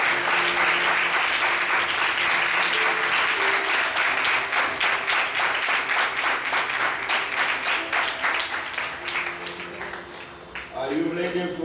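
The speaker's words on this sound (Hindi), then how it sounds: "चलो तालियों को बजाकर प्रभु को स्तुति करें।" A church congregation at an evangelistic service in India breaks into loud, sustained applause praising the Lord, a dense wash of many hands that fades in the final moments as a voice begins speaking.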